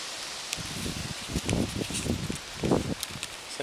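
Wind gusts buffet and roar in the open at a solo bivouac, rising and falling in waves with rustling, flapping noises close by; no one speaks.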